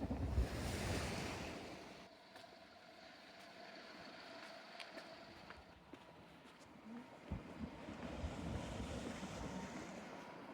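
Waves wash onto the shore in rolling surges, with gusty wind buffeting the microphone between breakers.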